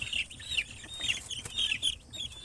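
Village chickens being vaccinated give a run of short, close clucks and chirpy calls in quick succession over faint handling noise.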